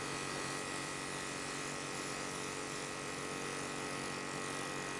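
Makeup airbrush spraying foundation evenly over a face, a steady close hiss and faint motor buzz running unbroken and fairly quiet throughout.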